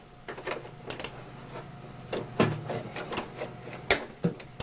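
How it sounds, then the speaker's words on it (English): Hand ratchet turning an 18 mm socket on a CV joint axle nut of a 1998 Chevy Tahoe, worked by hand without air tools; quiet irregular clicking bursts in a garage. "Here's our 18 millimeter socket right here. I'm not even using air tools on this."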